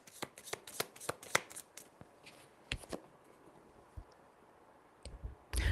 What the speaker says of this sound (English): Oh, these cards are so hard to shuffle.